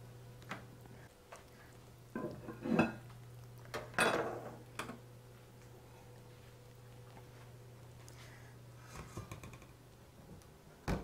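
Mashed potato being served onto a plate with utensils for slow-cooked lamb knuckles, heard as scattered light clinks and scrapes of metal against crockery, a few sharper taps in quick clusters, over a faint steady hum.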